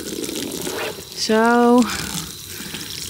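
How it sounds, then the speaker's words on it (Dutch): Water splashes and rinses sand off a smooth pool-area surface at a campsite. The flow is steady and moderately close, broken by a brief vocal tone and a short spoken word in the middle. "Het is gewoon even afspoelen met water. Even het zand eraf."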